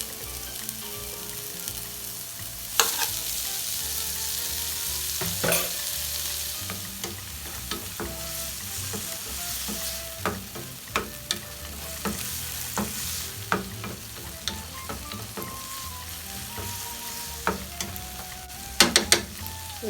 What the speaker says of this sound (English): and then I'm going on in with some garlic.